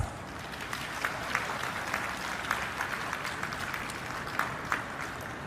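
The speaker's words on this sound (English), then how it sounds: "ladies and gentlemen, a very big round of applause." A crowd at a foundation-laying ceremony for an LG Electronics plant in Tirupati, India, applauds steadily, a dense patter of clapping that stays fairly even and slightly distant throughout.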